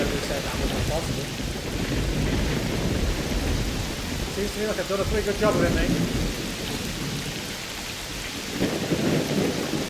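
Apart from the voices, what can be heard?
loud rain in video game S.T.A.L.K.E.R. Clear Sky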